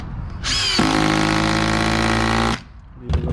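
A power tool drives a structural screw into a wooden floor joist in one continuous, loud, close whirring burst of about two seconds that labours into a lower tone as the screw bites, followed by a brief rattle.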